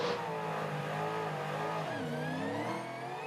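Supercars race cars, including Ford Mustangs, racing at the Gold Coast 500 street circuit, with a loud, close engine roaring continuously and pitch sweeping as it revs and shifts through gears.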